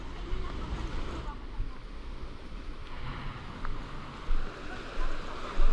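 A strong river current runs fast and muddy after overnight rain in a mountain setting, giving a dense, steady outdoor rush with wind buffeting the microphone and a few louder surges near the end.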